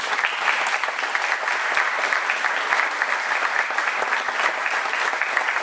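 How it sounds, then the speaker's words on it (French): A public-meeting audience in Gandrange applauds steadily and densely, a sustained even wash of many hands clapping close by for several seconds with no break. "je vais vous demander quand même tous les 4 de les applaudir bien fort"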